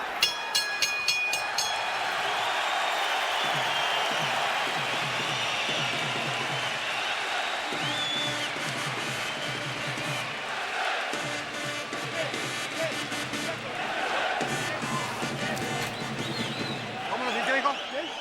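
Boxing crowd at the Ricky Hatton vs Jose Luis Castillo fight roaring and cheering in a large arena, a dense sustained swell of noise that rises and falls, with commentators talking over it.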